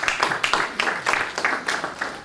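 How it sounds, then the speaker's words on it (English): Audience applause at an aviation careers conference welcoming a guest speaker, a steady wash of many hands clapping at close to moderate distance, with no voices over it. "a round of applause for him"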